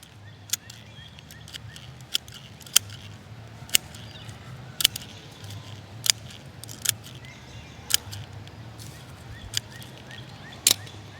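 Lavender stems are cut at an angle with about ten crisp, sharp snips spaced roughly a second apart, close and distinct over a faint background hush.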